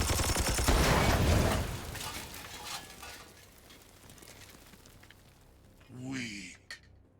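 Weapons fire from the video game Warhammer 40,000: Chaos Gate - Daemonhunters, a loud dense volley at the start that tails off into rumbling decay, followed later by a short mechanical whir and click.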